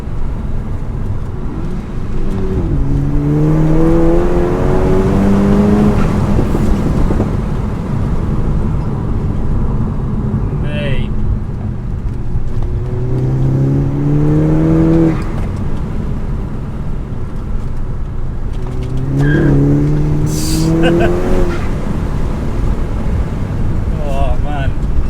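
A $2,000 Volkswagen GTI with nearly 200,000 miles, tuned to about 350 bhp, pulls hard up through the revs on an open road, each gear rising in pitch before the next shift, with loud wind rush, road roar and occasional talk throughout.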